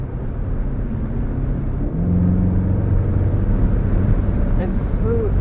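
A 2021 Chevrolet Corvette Z51 convertible's 6.2-liter naturally aspirated V8 hums at a steady, loud low drone, rising slightly midway under continuous road and wind rumble.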